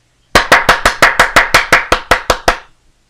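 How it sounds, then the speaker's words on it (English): Twelve sharp hand claps in a quick, steady rhythm, close and fairly loud, with no other sound around them. "I'll clap my hands"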